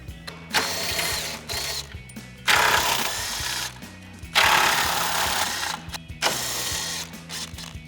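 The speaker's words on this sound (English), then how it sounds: "Now we can remove the upper grill mounting bolts." A 10mm socket ratchet spins out the upper grille mounting bolts on a 2019-2024 RAM 2500, loud, close, rapid clicking in three bursts with short pauses between, and no talking.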